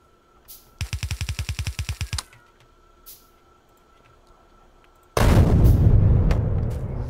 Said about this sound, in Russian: Взрыв этой взрывчатки прям...